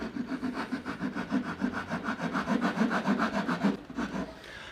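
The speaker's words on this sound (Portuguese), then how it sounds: "eu vou apenas agora passar a grosa" Wood rasp worked by hand across the edge of a small wooden box, a steady rhythmic back-and-forth scraping of roughly a dozen strokes, close and fairly loud, then stopping near the end.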